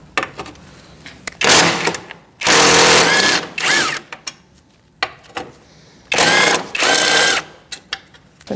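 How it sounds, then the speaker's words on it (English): A 10mm socket on a ratchet backs out bolts on the bumper of a 2008-2014 Mercedes-Benz, heard as several short, close whirring bursts separated by pauses and quieter handling noises. "Using a 10mm socket, we're gonna take off these two bolts so we can remove this rod."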